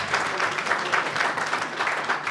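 An audience at a women's award ceremony claps in a dense, steady burst of applause that carries evenly through the whole stretch without pause.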